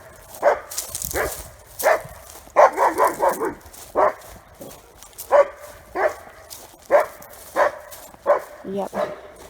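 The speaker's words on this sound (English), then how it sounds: "here's that dog that barks at me every day as I cross through" A fenced-in dog barks repeatedly nearby, about a dozen sharp, loud barks in uneven bursts spread through the clip.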